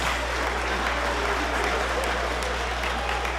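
Audience at a school band spring concert applauding a student, a continuous even round of clapping with a low steady hum beneath and no voices.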